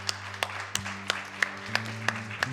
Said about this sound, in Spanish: Dale un aplauso al Señor, dáselo fuerte.